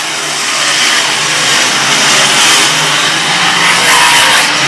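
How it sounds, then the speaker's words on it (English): Race car number 22 roars steadily past at a racing event, its engine rough and popping from a misfire, heard as a broad, continuous, somewhat distant rumble. "you can hear the popcorn in the 22"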